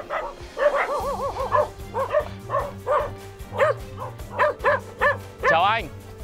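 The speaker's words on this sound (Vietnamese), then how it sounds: "Ở đây nuôi nhiều chó quá." Several dogs bark repeatedly in quick, uneven bursts at a rural Muong village in Hoa Binh, loud and fairly close, with a higher yelp near the end and a low steady hum underneath.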